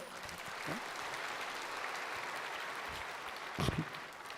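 A church congregation claps during a Korean sermon, a soft, distant and steady patter of applause with a brief voice near the end.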